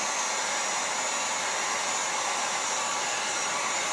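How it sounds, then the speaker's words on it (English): A heat gun blows hot air over automotive vinyl. The rushing hiss is loud, steady and unbroken and stays close for the whole stretch, with no talking. "always move the heat gun. Don't leave it in one place because you'll burn the vinyl."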